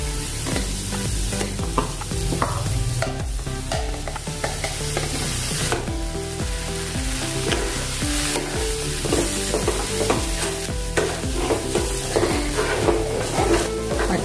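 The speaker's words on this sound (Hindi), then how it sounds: "अच्छे से मिक्स करेंगे।" Potato puree being stirred into fried masala for an aloo lauki sabji, with continuous close sizzling and rhythmic spoon-on-pan scraping throughout, no talking.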